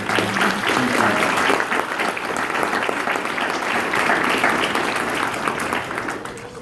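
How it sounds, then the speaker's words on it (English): Audience applause at a naturalization ceremony for new citizens, a steady, dense wash of many hands clapping that holds for several seconds before tapering slightly at the end. "I'm hoping you'll join me in applauding all of your family members, all of your friends"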